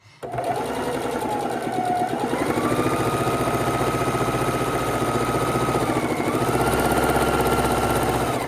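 A sewing machine stitches a scrap quilt block of half-square triangles, a loud close rapid mechanical whirring hum that starts abruptly and runs steadily without pause, the motor pitch rising slightly as it speeds up.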